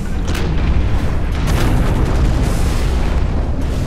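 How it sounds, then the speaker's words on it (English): Launcher explosions from the video game Hawken land as a rapid series of loud, heavy booms and bursts, several in quick succession over a few seconds, with no talk. "he's using an EDC launcher"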